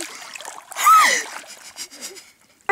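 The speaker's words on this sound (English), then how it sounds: "just dipping my feet in the water" A brief, close splash sounds as feet dip into a lake, followed by softer sloshing and small water movements, with people talking around it.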